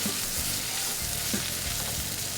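A sous vide London broil steak sears in a hot pan, a loud, steady hiss and crackle of frying fat heard up close with no talk.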